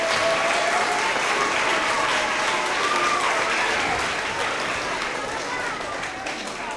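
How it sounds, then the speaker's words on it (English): Audience applause at a winter award assembly for 3rd to 5th grade school children, a steady, dense wash of many hands clapping throughout, with some voices mixed in, easing slightly toward the end. "let's go ahead and give all of our kiddos another big round of applause"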